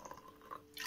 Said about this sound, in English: I will add first hot water in this glass